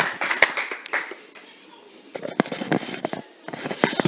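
Audience at an international women's rights conference applauds a panelist with scattered, uneven claps that come in loose bursts, fairly close, thinning out midway before picking up again.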